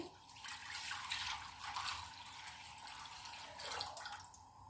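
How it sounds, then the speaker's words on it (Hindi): Water runs steadily from a tap into a cooking pan for boiling pasta. The splash is a continuous hiss that shifts slightly in tone as the pan fills, with no talking. "सबसे पहले हम पास्ता को बॉईल करेंगे और बॉईल कर पैन में पानी डाल देंगे"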